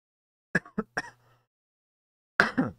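A few short throat-clearing bursts close to the mic, then a pause before one harsher, longer clearing of the throat.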